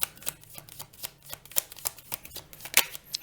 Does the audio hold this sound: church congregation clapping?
no